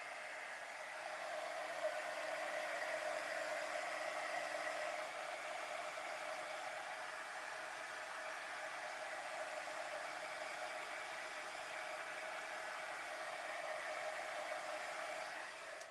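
A heat tool blows onto the underside of a craft piece to dry it, giving a continuous airy whir like a hair dryer at moderate level that runs steadily throughout with no voices.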